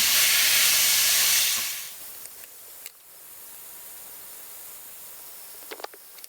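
Thinly sliced steak for a Philly cheesesteak sizzles in a hot pan, a loud hissing burst at first that drops to a steady quieter sizzle with a few small pops.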